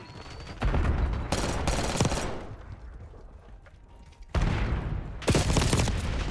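Call of Duty gunfire on the Nuketown map: loud bursts of rapid automatic fire in two clusters, separated by a quieter stretch of distant shots and game ambience.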